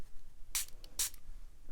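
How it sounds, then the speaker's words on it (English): A spray bottle mists water onto a watercolor painting in two short hissing bursts about half a second apart, close but quiet over a low background. "I might spray it a little bit."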